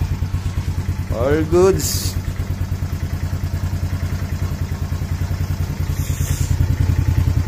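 A motorcycle with a weak battery is kick-started and its engine settles into a steady, close, rhythmic putter that runs throughout, with a brief clatter of the kick early on and someone talking over it.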